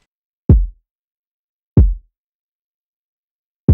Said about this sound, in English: the first drum sound we added here was the kick